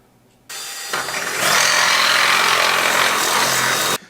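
A drill with a regular bit bores into a plastic water filter housing: a motor whines up after a brief start, then a loud, steady grinding rasp of the bit cutting plastic runs for several seconds before stopping abruptly.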